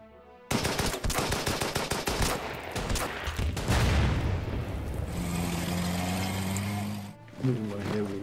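Dense bursts of gunfire from snipers and machine guns rattle close and loud along the Burma Road by the Irrawaddy River, rapid volleys stacking into a sustained barrage, with a deep humming drone entering in the later seconds.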